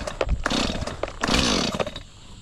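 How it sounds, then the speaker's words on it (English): A small chainsaw cuts old gum wood into fence posts, its engine revving in uneven bursts and dropping back between cuts, loud and close. "Probably should have bought a bigger chainsaw"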